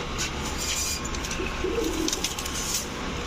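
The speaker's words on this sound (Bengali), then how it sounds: "এখন দেখাবো সুরমা খাকি একটা মাদি কবুতর।" A Surma Khaki female pigeon coos softly in short low murmurs amid steady background noise and faint higher chirps, close but quiet, with no one speaking.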